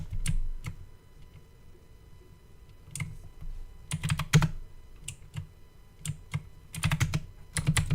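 Someone types on a computer keyboard up close in irregular bursts of rapid clicking keystrokes, with short pauses between the bursts and no voices.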